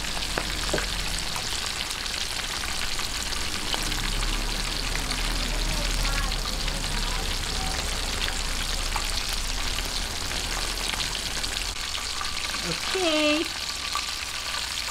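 Chicken pieces marinated with garlic and fish sauce fry in hot oil until golden brown, a steady crackling sizzle that runs throughout, with a brief word from a voice near the start.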